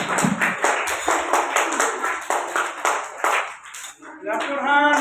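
An audience claps at a school prize distribution, a dense patter of hands that thins and stops near the end as a voice speaks over it.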